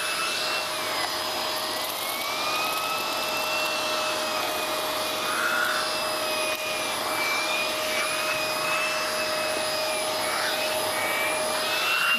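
A Hoover Globe GL1110 upright vacuum cleaner with an air-driven spinning brush runs steadily, a close, constant high whine over a motor hum, with slight pitch wavering and no talking.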